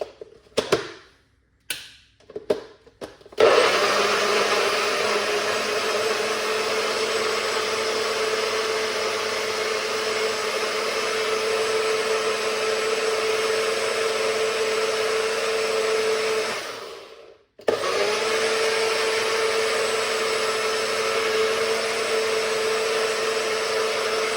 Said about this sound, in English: let's blend up this